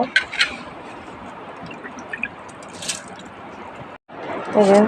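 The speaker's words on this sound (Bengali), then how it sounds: "চালগুলো এখন পানি থেকে উঠিয়ে পানি ছেঁকে নিব" Water drips and trickles as soaked rice is drained, with wet sloshing and a brief pause before a louder pour near the end.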